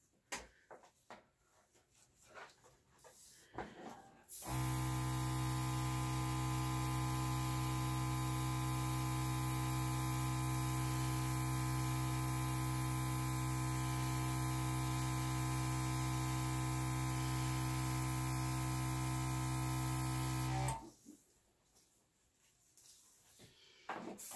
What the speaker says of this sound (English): the hair dryer